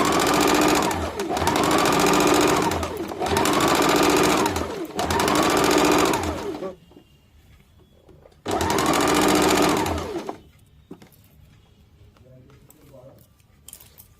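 Sewing machine stitching the side seam of a collared A-line kameez, running in three steady close bursts, a pause, then one more burst, with faint quiet between and a little talk.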